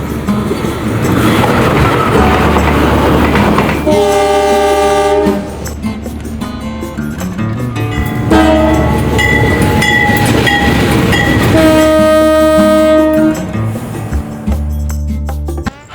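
A loud Indonesian train rumbles past with clattering wheels, sounding several long blaring horn blasts over the steady roar.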